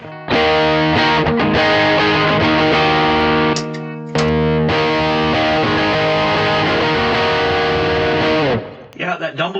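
Distorted electric guitar played through a Dumbler-style amp tone, loud and sustained chords ringing across the clip with one short break midway and a choppy fade at the end.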